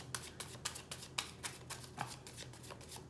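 Tarot cards are shuffled by hand, a run of soft, quick riffling taps and flicks in a quiet room, close and faint, with no one speaking.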